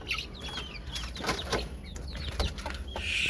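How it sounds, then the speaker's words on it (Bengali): Backyard chickens feeding, soft scattered clucks and chirps close by over a steady background hiss, no talk. "আমার মুরগিগুলা মনের আনন্দে খাবার খাচ্ছে"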